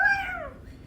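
A pet cat named Noble lets out a single drawn-out meow that falls in pitch, close and clear against a quiet room, then fades.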